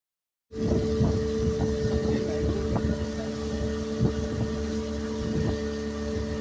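A boat at Devbag beach near Tarkarli in Malvan, its engine starting abruptly and then holding a steady, droning hum with faint wind and water noise around it.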